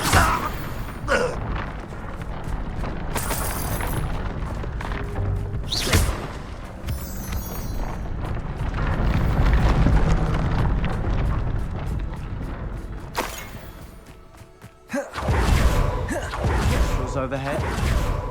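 Hogwarts Legacy's Confringo blasting spell lands in a video game battle as a series of heavy booming explosions and crashing impacts over a rumbling fight score, with a character shouting in between.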